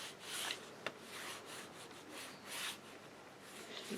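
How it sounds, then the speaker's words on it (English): A bone folder burnishes paper during mini folio assembly, making soft, close rubbing strokes in repeated short passes, quiet and dry. "Just burnish it a little bit, and then go on the side of your bone folder or your multi-purpose tool"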